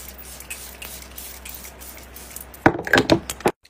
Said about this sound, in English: now I'm gonna do some of my Kosas spray.